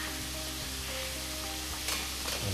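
Turkey frying in a pan gives off a continuous close sizzle, with a couple of soft utensil knocks near the end and no talk.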